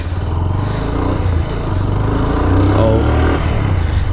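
A GPX motorcycle engine running steadily nearby, a smooth continuous low drone with a slight rise in intensity toward the end, with no talk over it.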